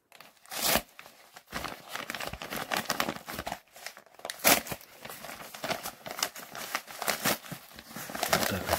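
A package of auction-bought badges is unwrapped up close, with bursts of crinkling and tearing plastic and paper, short pauses between handling sounds, soft and near with no speech.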